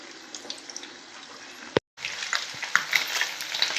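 Small raw anchovies frying in a pan of oil, a steady close crackling sizzle that cuts out briefly partway through and then resumes.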